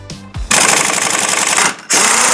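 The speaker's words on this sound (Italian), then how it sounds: "per farlo dobbiamo utilizzare sempre una pistola pneumatica come questa con la pressione al massimo" Pneumatic impact wrench at full air pressure loosening the 21 mm variator nut on a Piaggio Beverly 350 scooter: two loud sustained rattling bursts, one about 1.2 s long and a second starting near the end, separated by a brief pause.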